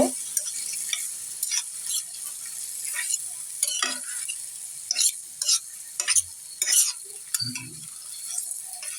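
Raw mola fish being stirred and mixed in a pan, repeated scraping and clinking strokes of a spoon over a soft sizzle, close and irregular with brief pauses.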